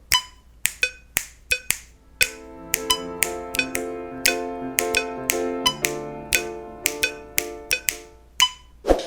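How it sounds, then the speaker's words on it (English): Piano repeats dotted-eighth figures over a steady sixteenth-note click pulse, the percussive ticks and sustained piano notes layering into a syncopated, crossing rhythm, clear and close with no voices. "it sounds like the piano is playing a sequence of dotted eighth notes against our original"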